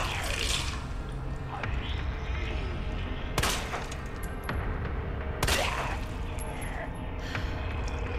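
Two sharp gunshots from Resident Evil 2, spaced about two seconds apart, cutting through a dense wash of game ambience and dripping water, with a voice talking throughout.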